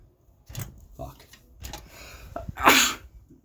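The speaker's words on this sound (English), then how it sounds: "I'm gonna sneeze a lot too, the window's open, pollen and everything's..." A single sharp sneeze bursts out near the end, set off by pollen drifting through an open window, after a few soft indoor knocks and breaths.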